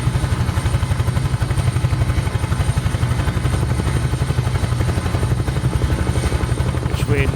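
Taog's Huey helicopter in Microsoft Flight Simulator hovering or flying, its blades thumping in a rapid, regular beat over a steady engine drone, loud and unbroken.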